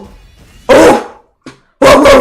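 Two loud, close dog barks ring out in a quiet morning room, a deep, gruff first bark followed by a brief yip-like sound and then a second heavy bark, separated by near-silence.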